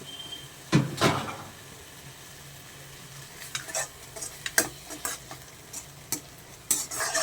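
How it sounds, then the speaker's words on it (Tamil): A spoon stirs cooked rice into a beetroot mixture in a pan, giving a few scattered scrapes and clinks over a faint sizzle. "இப்போ சாதத்தை அதில் போட்டு பெரட்டி எடுக்கணுங்க"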